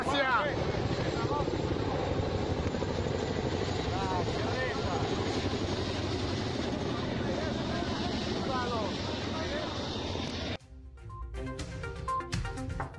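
Helicopters over the Dominican Republic make a continuous, loud rotor and engine roar that holds steady for several seconds, then cuts off abruptly, followed by a brief burst of clattering noise.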